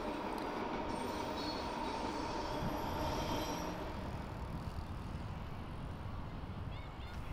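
A train rumbles past near Main Street Science World SkyTrain station, steady and loud throughout, with a faint high wheel squeal over the roar.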